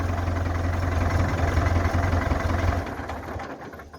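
A Ford tractor's diesel engine, long parked, idles with a steady low chug, close by, then winds down toward the end as it shuts off.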